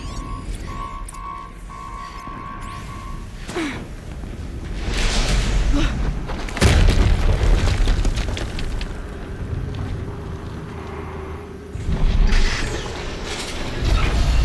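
An explosion in the video game Horizon Zero Dawn, a deep roaring boom that swells over a rumbling mechanical background, followed by a second heavy blast and a long lingering roar.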